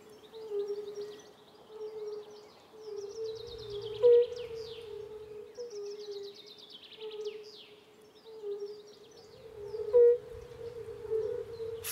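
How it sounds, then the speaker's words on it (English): Fire-bellied toads call over still water, a steady drawn-out hum rising and falling continuously, with birds chirping above it and two brief louder bursts. "Fire-bellied toads."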